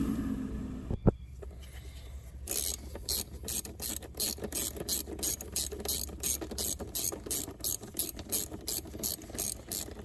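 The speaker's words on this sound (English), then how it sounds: "little 1/4 inch ratchet" A small 1/4 inch ratchet tightens timing cover bolts on a Chevy Cruze during a timing belt job, giving a close, even run of crisp clicking strokes after a brief quiet start.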